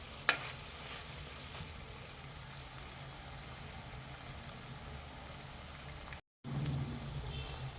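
Drumstick pieces and onion frying gently over a low flame, giving a steady, soft sizzle with a sharp tap near the start and a brief cut in the sound toward the end.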